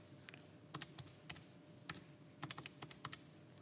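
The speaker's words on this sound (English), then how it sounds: "So I type all that in on the calculator" Numbers are tapped into a calculator as a quiet, irregular run of small key clicks, close by and with no talk over them.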